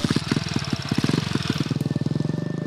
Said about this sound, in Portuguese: E ela vai de moto.